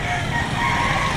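Dense, steady din at an outdoor chicken market in Lipa, Batangas, with rooster and hen calls blending into a loud continuous wash of fowl noise, close and unbroken, with faint background voices.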